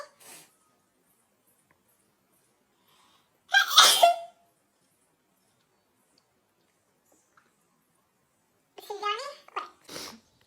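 A single sharp sneeze bursts out after a stretch of near silence, followed later by a short, high-pitched vocal sound and another quick burst.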